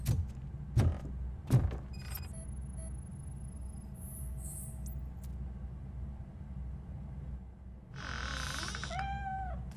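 A cat meows in the video game Robocop: Rogue City. A few dull thumps and a low background hum come first, then one clear, drawn-out meow rises near the end.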